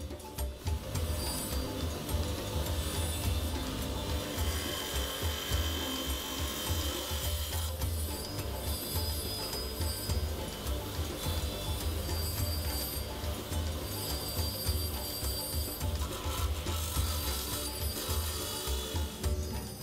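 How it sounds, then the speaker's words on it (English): Rough stone being trimmed down to a workable size gives a steady, continuous grinding and rasping at close range, with no one speaking. "the stone is first trimmed to a more workable size and shape"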